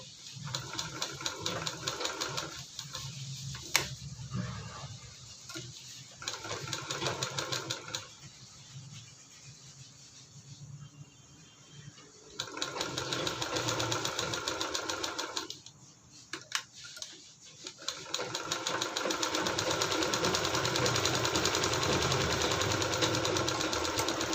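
A sewing machine stitches a cover in long runs of fast, steady mechanical rattling, close and loud, broken by a few short pauses and quieter stretches.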